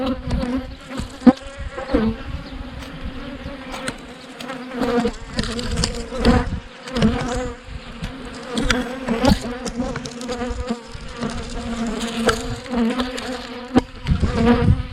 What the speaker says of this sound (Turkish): Arılar.